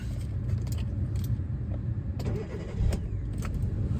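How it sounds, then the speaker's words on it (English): A 2010 Kia five-door hatchback is started with the key, a faint jingle of keys and a brief crank as the engine catches and settles into a quiet, smooth idle. "In typical Kia fashion, it fires up straight away."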